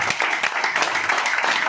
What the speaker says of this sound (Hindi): आप लोग खड़े होकर तालियां बजाइए सर